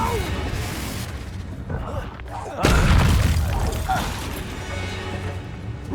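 A Confringo spell blast in the Hogwarts Legacy video game lands as a deep booming crash midway, amid dense, rumbling game action with voices.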